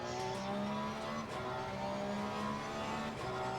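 Race car engine in the video game Assetto Corsa Competizione, held at steady high revs with tonal engine whine shifting through gears, loud and continuous with no pauses or talk.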